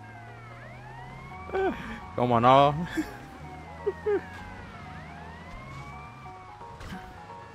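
A police car siren wails in Grand Theft Auto Vice City, its rising and falling sweeps repeating steadily in the background while someone speaks Spanish over it in short bursts.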